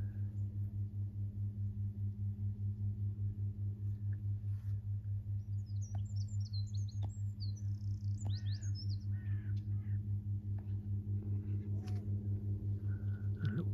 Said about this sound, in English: Mostly willow warblers and whitethroats.